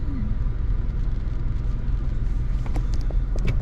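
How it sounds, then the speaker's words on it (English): Traffic on the rainy I-94 highway in Detroit, heard from inside a moving car as a steady low engine and road rumble with faint tire hiss and a few brief passing swishes toward the end. "kind of give you a little idea of the traffic as well"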